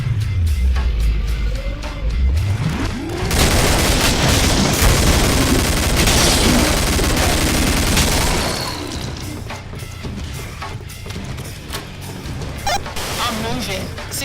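Dense bursts of gunfire and booms fill the co-op shooter Killing Floor on PC, loud and continuous for several seconds before easing, with game voices speaking over the action.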